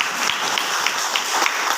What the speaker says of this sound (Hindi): आप दोनों लोग मिलकर के एक बार ताली बजाएंगे, जोरदार ताली